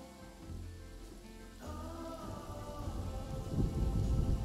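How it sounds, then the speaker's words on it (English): Rain falls in the zoo-building video game Planet Zoo, a steady hiss of rainfall that swells louder toward the end, with a faint low rumble like distant thunder and no talk. "now it's raining and it's like super dark and we can't see anything"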